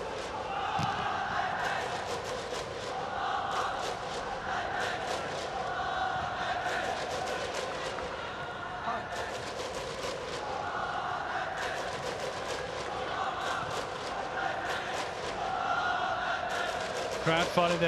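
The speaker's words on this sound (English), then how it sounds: "Crowd finding their voice." Football stadium crowd at a FIFA World Cup qualifier between Chinese Taipei and Australia, a sustained chanting roar that swells and repeats in waves under ongoing commentary.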